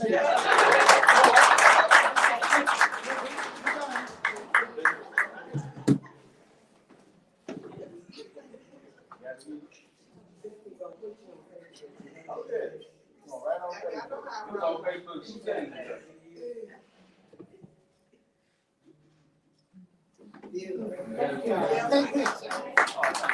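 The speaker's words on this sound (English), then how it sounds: "I give a round of applause." An audience at an award ceremony claps and applauds in a burst of rapid hand claps that fades out. Speech and murmuring follow, and a second round of applause breaks out near the end.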